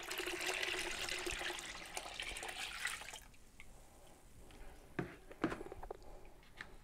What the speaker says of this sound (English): So go ahead and add a gallon of warm water.